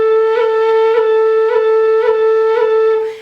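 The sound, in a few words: low whistle note played with tapping ornament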